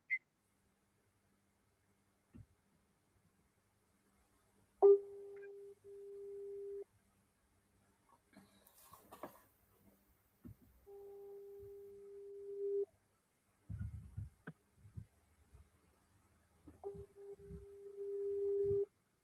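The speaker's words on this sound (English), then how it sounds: "This one line is engaged." Engaged tone on a telephone line, heard as repeated steady beeps spaced several seconds apart, with faint handling noises and low background sounds in between and no talk.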